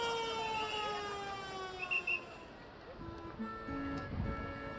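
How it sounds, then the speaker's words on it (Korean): Long siren warning sounds at Busan's Yeongdo Bridge as traffic and pedestrians halt for the bridge lift, its steady drawn-out tones sliding slowly downward and layered over outdoor noise and faint crowd sounds. "사이렌이 울리며 도로 위 차량과 보행이 잠시 멈추고 다리 양쪽이 통제됩니다."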